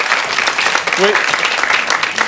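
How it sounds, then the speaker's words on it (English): A TV studio audience applauds during a spoon-bending act on a cooking show. The clapping is a steady, fairly loud wash that lasts the whole short stretch, with a brief voice heard in the middle. "round of applause here, please."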